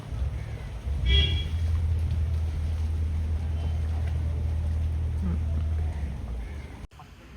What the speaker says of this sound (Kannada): ಅಲ್ಲೊಂದು ಬೋಟ್ ಬರ್ತೈತೆ, ಚೆನ್ನಾಗಿರೋ ಬೋಟ್ ಹೌಸ್